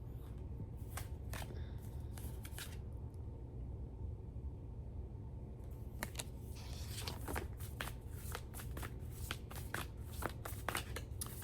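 Tarot cards shuffled by hand, a steady run of crisp riffling bursts with brief pauses, close and quiet, no talking.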